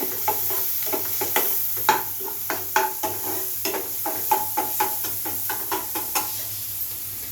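Onions frying on high flame in a pan for bread podimas, a steady sizzle and hiss broken by a run of regular spatula scrapes and knocks against the pan.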